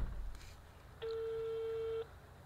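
A phone call placed to the SIM number of a GPS tracker produces a single one-second electronic ringing tone, faint and alone over quiet background hum.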